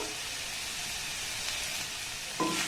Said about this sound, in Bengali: এরকম একটু হালকা নাড়াচাড়া করে ভাজতে হবে